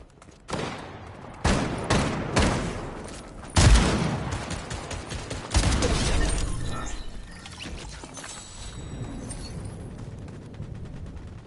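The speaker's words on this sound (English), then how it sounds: "He's on me, he's shooting me, I ain't got no gun." Sharp bursts of gunfire in Fortnite come in separate volleys of several rapid shots with pauses between, each loud and close, then fade to quieter rattling toward the end.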